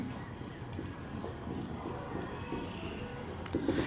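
Chalk or marker scratching across a classroom board during a lesson, soft continuous strokes in short bursts, faint and close under a low room hum with no spoken words.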